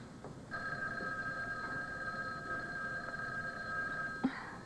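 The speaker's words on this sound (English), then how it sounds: "Not with that phone ringing off the wall." A telephone rings insistently in a room, one long steady electronic ring lasting about four seconds, heard alone at moderate volume.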